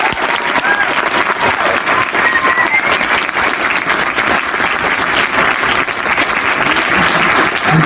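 A theatre audience at a documentary premiere Q&A at a film festival gives loud, sustained applause for two guests, dense and continuous throughout with a few faint whoops.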